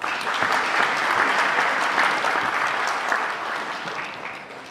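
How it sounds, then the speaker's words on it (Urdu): Steady, dense clapping from an audience at a book launch ceremony fills the room, sustained at full strength before tapering slightly near the end, with no voices over it. "آپ کی پرزور تالیوں کی رونق میں دعوت دیتی ہوں"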